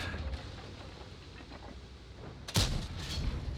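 A tank's main gun fires once in World of Tanks, a loud sharp boom at close range that rolls off into a rumbling tail over steady battle background noise.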